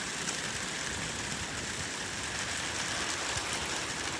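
Heavy rain pours down during an exceptional thunderstorm in Corrèze, France, a dense, steady hiss of downpour on surfaces filling the whole stretch at an even level, with no voices.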